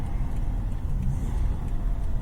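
A Daimler Double Six XJ12 with a V12 engine and manual gearbox pulls hard, its steady low engine drone and road rumble continuous and close throughout, with no talking.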